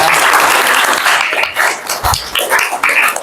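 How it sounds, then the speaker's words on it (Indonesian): A class claps, loud and dense at first, then thinning into scattered, uneven claps as it winds down. "tepuk tangan untuk Siva ya."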